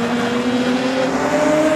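Production sedan race cars roar out of turn 4 on a speedway during an Australian title heat, a steady sustained engine drone with tonal whine, loud and continuous without a break.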